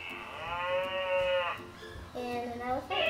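A cartoonish cow moo played from the Wonder Workshop Dash robot through the Dash Go app, heard as two drawn-out synthetic mooing calls in close succession, loud and near.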